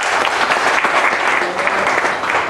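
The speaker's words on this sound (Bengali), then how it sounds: "এখানে যারা আসছে তাদের সম্মানে একটা জোরে হাত তালি চাই সবার" An audience at a freelancer video night claps loudly and continuously, a dense even wash of applause throughout.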